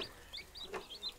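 On a farm in spring, a hen clucks softly among her chicks while their high, thin peeps chirp repeatedly around her, faint and close together.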